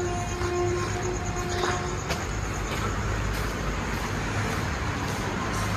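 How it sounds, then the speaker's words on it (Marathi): An express train runs past Lonand railway station, a steady broad rumble that lasts the whole stretch, mixed with road traffic noise and a few faint tonal whines, with no voices. "हे बघू शकता रेल्वे एक चालली आहे पलीकडे, एक्सप्रेस दिसत असेल"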